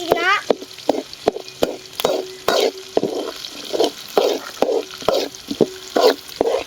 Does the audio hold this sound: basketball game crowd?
no